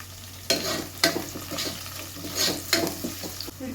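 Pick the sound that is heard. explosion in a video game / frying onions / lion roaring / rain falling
frying onions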